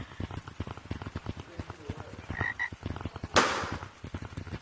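A frog in a video game croaks in a rapid, regular series of short, punchy pulses, fairly close, with a brief sharp burst of noise cutting through partway and a voice faintly underneath.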